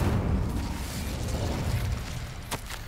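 Incendio fire spell cast in the game Hogwarts Legacy, a muffled whooshing burst with low rumbling roar and a couple of sharp crackling pops near the end, fairly close and without talk.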